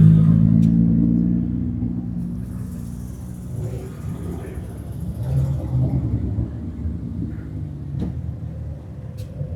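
1966 Ford Bronco at a car show, its engine rumbling low and loud up close, easing off and then swelling again as it idles and revs, with faint crowd sounds around it.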